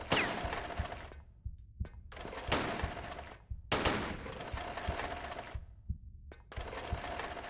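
Bursts of automatic gunfire in the Tomb Raider 3 video game, in an Area 51 setting: loud rapid-fire volleys lasting a second or more each, separated by short silences and a few isolated single shots, close and without talk.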